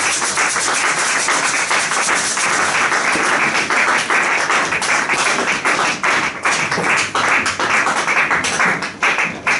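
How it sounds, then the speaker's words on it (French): A church congregation applauding loudly, dense continuous clapping from many hands that fills the space for several seconds with little variation. "On applaudit très très fort pour la joie de notre Dieu."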